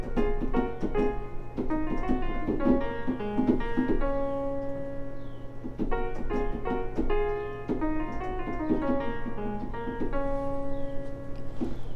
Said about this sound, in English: I'll play it on the piano real quick.